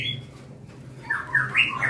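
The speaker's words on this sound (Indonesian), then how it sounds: "Selanjutnya ini jalak suren putih." A white Asian pied starling (jalak suren putih) gives a few harsh squawking calls near the end, after a brief higher whistle at the start, heard close and fairly loud against a low background hum.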